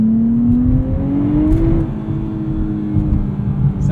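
A car engine drones steadily with a deep, throaty exhaust note, rising slightly in pitch as it accelerates, close and loud throughout.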